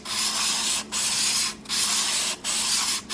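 A single-bevel broadhead blade is drawn across a 1200 grit sharpening stone in four long, even strokes, each a close hissing scrape separated by brief pauses, with no talk.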